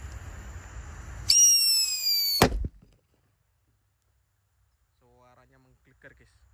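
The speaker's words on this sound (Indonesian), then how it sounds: "di sini ada mercon Blackbuster yang sering kita gunakan untuk buntelan kertas ya" A Blackbuster firecracker, lit outdoors in the late afternoon, goes off with one sharp, loud blast. A short whistling screech comes just before it. Faint ambient noise and distant sounds follow the bang.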